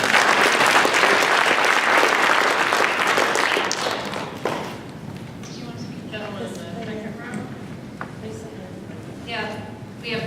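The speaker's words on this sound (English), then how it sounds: "please give her another applause." An audience at a town hall meeting on opioids gives loud, sustained applause that fades after about four seconds. People then talk near a microphone.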